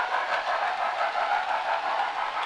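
A model railway train runs steadily in a shed during an evening operating session, giving a continuous mid-pitched rolling whir with faint rhythmic clicking of wheels over track joints, close and fairly loud with no talking.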